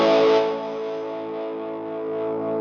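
A sustained, heavily distorted Travis Bean TB500JG electric guitar chord rings out alone, loud at the attack and then holding steady with a gritty, saturated tone.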